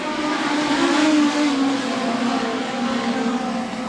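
Legend cars race off at the green flag of a Western Australia state title A main, a dense pack of small engines roaring and revving together at close range, steady and loud throughout.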